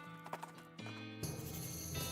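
Horse hooves clip-clopping in the West of Loathing video game, a steady run of hoofbeats under music-like tones, fairly quiet and without talk.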